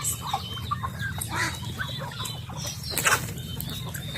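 Native chickens in a backyard farm cluck and call at close range over a steady low farmyard hum, with a brief burst of wing flapping near the end.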